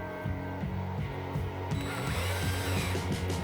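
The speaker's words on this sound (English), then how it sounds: "I'm going to drill a pilot hole with a 3/16 inch bit" A power drill with a 3/16 inch bit bores a pilot hole for a lag bolt, short whirring bursts in a quick stop-start rhythm, quiet and close.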